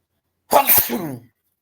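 A single loud, close sneeze with a sharp intake and explosive release, followed by silence.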